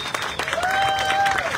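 A crowd claps briefly at an outdoor groundbreaking ceremony for the Eastridge to BART Regional Connector. The applause is short and fairly loud, with a faint tonal sound running through it.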